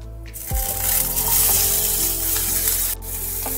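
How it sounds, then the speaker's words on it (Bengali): Cut potatoes drop into hot oil already seasoned with whole cumin, chilli and bay leaf, setting off a sudden loud hiss that settles into a steady close sizzle with faint stirring and no talk. "মশলা একটু তেলের মধ্যে নাড়াচাড়া করে দিয়ে দিতে হবে এইভাবে কেটে রাখা আলু"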